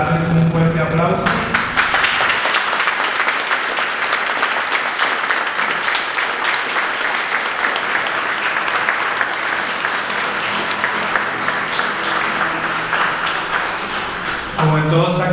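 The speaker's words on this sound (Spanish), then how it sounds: "Vamos a darles un fuerte aplauso." Sustained applause from a crowd of guests at a golden wedding anniversary church ceremony, loud and dense for most of the stretch, with a spoken voice before and after it.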